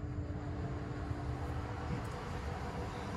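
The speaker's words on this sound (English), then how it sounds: "We'll go ahead and turn them fans on." Auxiliary cooling fans on a truck's cooler rack whir steadily, a continuous broadband rushing hum heard at low level.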